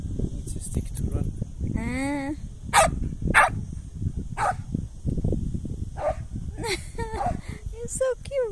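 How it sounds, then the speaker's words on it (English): A dog barks in scattered bursts in Għargħur, Malta, several sharp yelps over a few seconds, nearby while people keep chatting underneath. "Oh, he's barking, he's barking."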